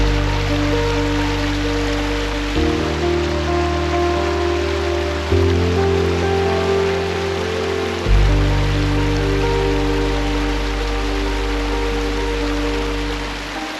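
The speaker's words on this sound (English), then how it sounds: "we have water, we have rocks, not a waterfall, perhaps just a water flow" A shallow stream runs over rocks outdoors, a constant close rushing and splashing wash with no talk, while low sustained tones shift in steps underneath.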